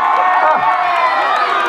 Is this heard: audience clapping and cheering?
yes